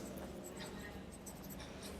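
A pen scratches across graph paper in a continuous soft rasp, close by and quiet, with faint breathy voice sounds in the background.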